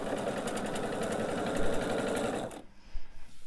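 A sewing machine runs steadily and fast, stitching pieced quilt blocks for a borderless quilt, a continuous rapid whir that stops abruptly near the end, followed by a couple of faint knocks.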